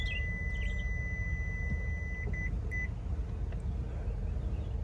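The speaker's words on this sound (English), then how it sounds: "it's just beeping because it's sensing the seat belt's in the way" Short electronic seat belt warning beeps, a cluster at the start and a few more midway, ringing over a steady low rumble inside a 2024 Toyota Sequoia Platinum Hybrid.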